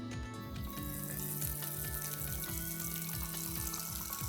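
A frozen chicken Kiev deep frying in well-heated oil, a dense, loud, continuous bubbling sizzle with busy crackle throughout, no voices.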